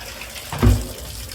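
Clean water runs from a tap into a bucket in a steady, moderately close stream, with a brief louder gush partway through and no speech.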